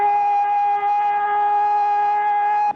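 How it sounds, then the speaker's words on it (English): A siren sounds in Honolulu, one loud steady wail holding its pitch for nearly three seconds before cutting off abruptly. "There is in Honolulu one person whom the sound of the siren does not bother."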